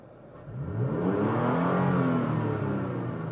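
A 2017 Toyota Tacoma fitted with a Pedal Commander revs in Sport Plus mode, its engine swelling quickly from a low rumble to a loud, sustained, rising roar heard close up.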